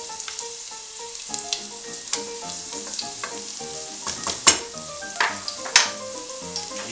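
Garlic sizzles steadily in a hot pan with oil, close and even, while a utensil scrapes and taps against the pan as it is stirred, with no voices.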